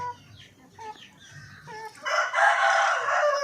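Darag hens and other native chickens cluck on a backyard farm, with scattered soft clucks giving way to a louder, sustained cackling call near the end.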